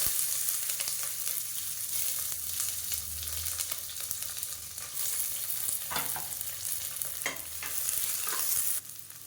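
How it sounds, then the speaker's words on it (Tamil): Long-sliced onions fry with cardamom in an oiled pan for a Tamil wheat kanji, giving a steady close sizzle broken by the scrape and clatter of a spoon stirring. No one speaks. "இப்போ இதில் நீளமாக நறுக்குன வெங்காயம் சேர்த்துக்கலாம்"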